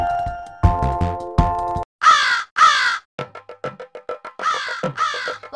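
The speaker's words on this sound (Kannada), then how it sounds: "ಒಂದು ಕಾಗೆ ಬಂದಿತು" A crow caws loudly several times in harsh, raspy bursts, mixed with brief tonal notes and clicks between the calls, within an animated Kannada children's rhyme.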